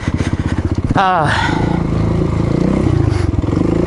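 A motorcycle engine with a slipping clutch pulses in a rapid idle-like chug, then surges into a rev that rises and holds, loud and close, with a rider talking over it and wind noise throughout.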